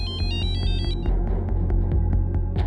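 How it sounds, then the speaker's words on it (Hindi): A phone ringtone chimes in a quick repeating pattern over a steady, throbbing low backdrop, continuing throughout. "उस रात जब मैं सो रहा था मेरे फोन की घंटी बजी थी"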